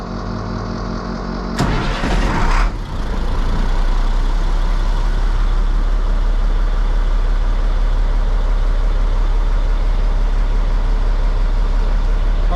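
A 1998 International 4700 truck with a DT466e diesel engine cranks briefly and fires up, then settles into a steady, loud, rumbling idle that carries on for several seconds.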